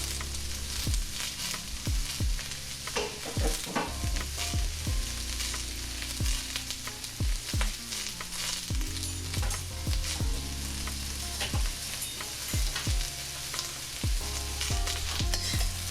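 Broccoli and onions sizzle steadily in a hot pan for pineapple pork while a utensil stirs and scrapes through them, with repeated knocks against the pan over the constant close frying hiss.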